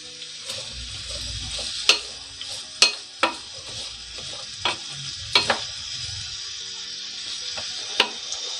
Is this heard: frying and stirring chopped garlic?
yes